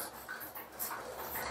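A dog whimpers and pants softly at bath time, unwilling to be bathed, with short high whining cries repeating over a close, quiet background.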